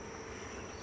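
Honey bees buzz around hive frames of brood and honey as frames are moved between hives, a dense, steady droning hum that fills the brief moment with no voices.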